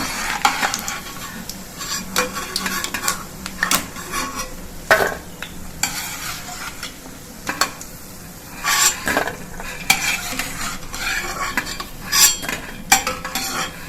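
Moong dal fritters for kadhi fry in hot oil with a steady low sizzle, broken by repeated clinks and scrapes of a spoon stirring and lifting them from the pan; no one speaks.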